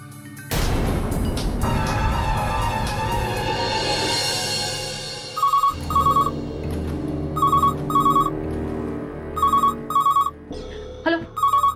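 A phone ringtone repeats in short paired electronic bursts, loud and near, starting after a dramatic swelling music cue with a crash at the start of the scene in a Marathi TV serial.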